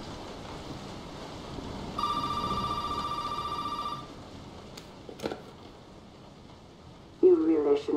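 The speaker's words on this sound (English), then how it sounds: "We're gonna have to answer the phone, aren't we?" A telephone rings once with a sustained electronic trill amid rain and distant thunder in the horror game Resident Evil 7, followed by a few knocks and a voice speaking at the end.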